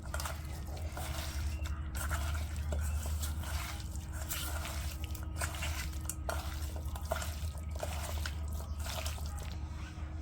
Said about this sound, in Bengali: মরিচের গুঁড়া, হলুদের গুঁড়া, ধনিয়া গুঁড়া, হাত দিয়ে ভালো করে মাখা নেই